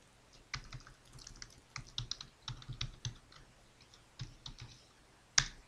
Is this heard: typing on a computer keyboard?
yes